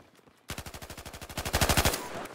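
Rapid automatic gunfire from Battlefield 4, a loud sustained burst of closely spaced shots lasting over a second, followed by a lingering tail.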